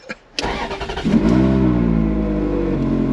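A Ferrari engine cranks briefly, catches and fires up, then settles into a loud, steady, rumbling idle with a slight rev, close by and with no talk over it.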